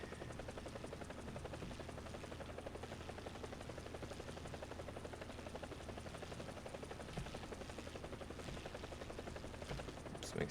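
A helicopter in the War Thunder video game drones steadily throughout, its rotor buzz constant and fairly loud, with no voices over it.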